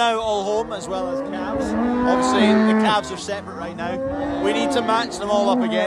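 Cattle moo loudly and continuously, several overlapping calls close by, while a person speaks briefly underneath.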